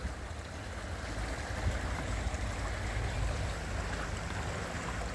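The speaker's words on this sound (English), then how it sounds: "That's a class 8 rapid here on the Portage Arado." Rushing river water at a class rapid on the Portage river at low water level, a steady broadband roar of turbulent flow close by, continuous and even with no voices.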